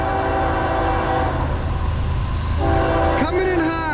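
A CSX M406 freight train led by a C40-8W locomotive passes at sunrise with a loud, continuous rumble. A rising horn note enters near the end, and a voice briefly speaks over the noise.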